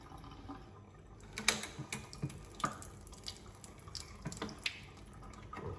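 A Pinter home beer dispenser runs a short stream of liquid through its tap to flush the nozzle, giving a quiet trickle with scattered drips and light splashes.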